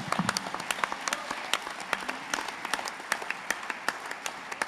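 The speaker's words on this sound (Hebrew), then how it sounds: "מחיאות כפיים בקהל." Theater audience applauding an entertainer's stage show, a steady patter of many hands with sharp individual claps cutting through, sustained throughout at moderate distance and without talk.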